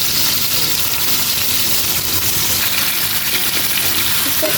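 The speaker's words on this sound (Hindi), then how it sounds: "इसको थोड़े से ऑयल में फ्राई होने देंगे।" Chopped tomatoes fry in oil in a pot, a dense, continuous hissing sizzle that stays loud and even throughout with no voices.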